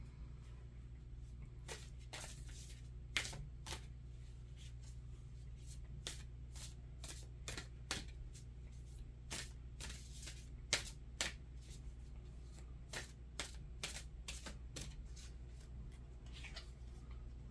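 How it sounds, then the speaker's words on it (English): Soulflower oracle cards are shuffled up close for a reading, giving a steady run of quick riffling snaps and soft card slides over a low constant hum, with no talking. "I'll pick you a Soulflower card as well."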